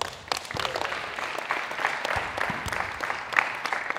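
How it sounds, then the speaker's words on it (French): An audience at a mini-basketball coaching forum applauds, with scattered, moderately loud claps and a few voices in the background over about four seconds. "on peut vous applaudir"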